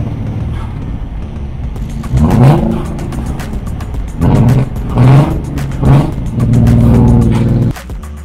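A BMW E36 cruising after a drifting spin event, its engine rising in several loud, rasping rev bursts between gear changes, heard close from inside the car with a steady drone underneath.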